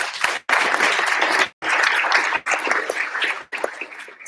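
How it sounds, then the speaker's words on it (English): An audience at a business summit applauds in several sustained bursts of dense, even clapping, each cut off abruptly, with no talking over it. "Give them a round of applause"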